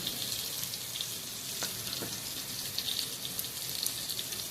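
Potatoes fry in a pan with salt and turmeric, giving a fairly quiet, steady sizzle with a couple of light stirring clicks, heard close and without talk.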